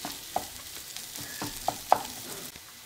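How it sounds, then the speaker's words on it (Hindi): Vrat dosa filling fries in a pan, giving a faint, steady sizzle. A few soft scrapes and clicks of stirring can be heard up close. "1 मिनट तक इसको भून लेते हैं"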